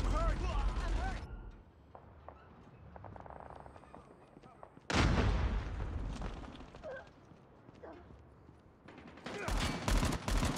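Gunfire in a Call of Duty Mobile deathmatch, with loud bursts of shots and booms around the middle and end, mixed with game sounds and voices talking.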